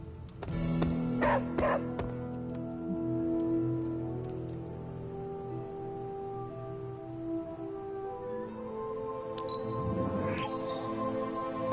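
A dog in the video game Marvel Midnight Suns gives several quick yips and barks early on, then softer whimpers over a steady low background hum.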